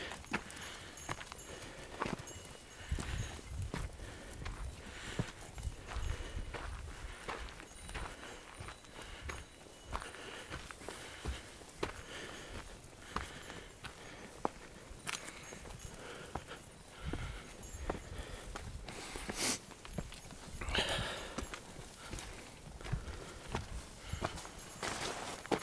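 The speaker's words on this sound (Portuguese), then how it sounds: "São as ovelhas." Flock of sheep walking, with many hooves clattering and shuffling in a dense, irregular patter at close range, continuous throughout with a few sharper knocks.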